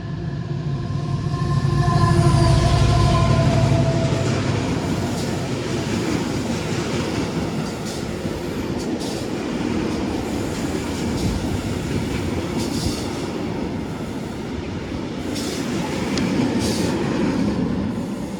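An Avanti West Coast class 221 diesel train passing through Stoke-on-Trent station, a steady loud rumble of engine and rolling wheels with faint rail clatter, rising slightly near the start and holding for the whole stretch, no talk.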